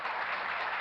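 A small audience applauds in a brief, steady patter of clapping with no voices.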